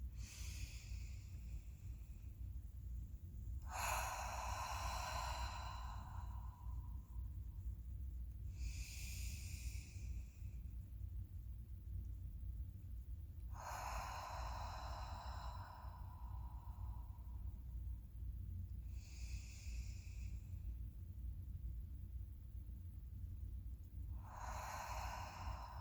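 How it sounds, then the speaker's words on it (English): Deep, slow breaths during a guided relaxation exercise, drawn in and let out about five times at an even, unhurried pace over a steady low hum, with no talking. "take a few deep breaths"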